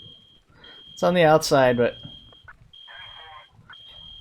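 Fire alarm at a bank fire in a Montana Mod video game, beeping in a high steady tone that runs behind a brief spoken remark, then continues with short gaps.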